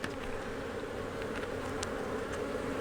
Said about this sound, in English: here's a ball of bees right here